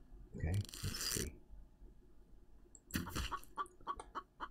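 A chicken in the survival video game Infected, several short close clucks in two bursts separated by a quiet gap, with a voice speaking in between.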